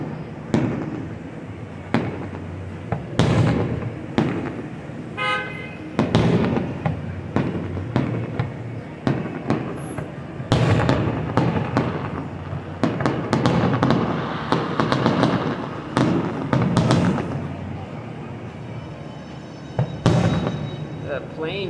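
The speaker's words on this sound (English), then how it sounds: "you can see all the different municipalities' fireworks going off" Fireworks burst repeatedly at a July 4th show in Pompano Beach, Florida, sharp booms and crackles arriving in irregular volleys across the distance, with people talking in between.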